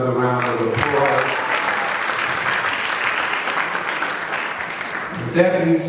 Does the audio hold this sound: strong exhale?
no